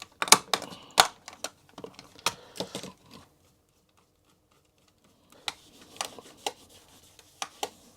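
Sharp clicks from an Amiga 600 mouse button that seems stuck come in close bursts, then a pause of about two seconds, then more scattered clicks.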